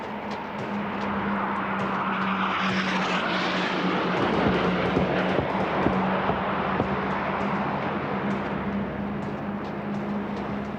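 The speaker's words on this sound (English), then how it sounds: "the aircraft is backing up the runway to give itself maximum room, and this could be a rough strip" A military transport aircraft backs up a rough airstrip at an air show. Its engines give a steady, loud drone with a sustained low hum that rolls on without a break for the whole stretch, with no speech.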